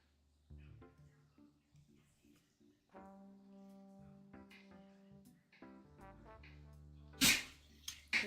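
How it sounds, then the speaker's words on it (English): A puppy lets out one sharp, loud sneeze near the end, following several seconds of quiet tonal sounds and soft background noise. "That was a big sneeze."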